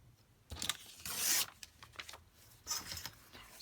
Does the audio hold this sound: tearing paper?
yes